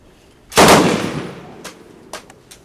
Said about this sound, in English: What size round is that, Chip? 20 millimeter. Vulcan